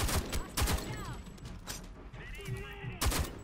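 Gunfire rattles in Homefront: The Revolution as several sharp shots crack in quick bursts, spaced through a few seconds, with other game sounds between them.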